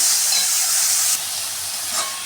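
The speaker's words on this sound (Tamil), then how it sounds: "லைட்டாக கலந்து வச்சுட்டு ஒரு ரெண்டு நிமிஷம் வதங்கட்டும்" Tomatoes with salt sauté in a pan, giving a close, bright hiss of sizzling that eases slightly partway through, with a faint stir near the end.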